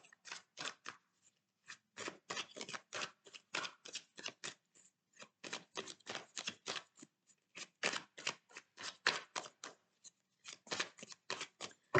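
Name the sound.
shuffling oracle cards for a reading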